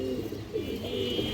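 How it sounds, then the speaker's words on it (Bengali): A big-sized male pigeon cooing close by, a continuous low throaty burbling that rolls on without a break, loud and alone. "নরের ডাকটা আপনারা দেখেন দর্শক"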